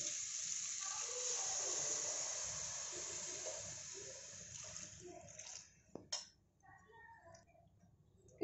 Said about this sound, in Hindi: अब मैं इनमें दो गिलास पानी डाल दूंगी।